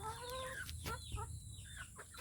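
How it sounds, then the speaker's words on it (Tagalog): Chickens cluck softly while being fed in the morning, a few faint, scattered bird calls over a quiet, steady background hum. "patukain ko na yung mga manok guys"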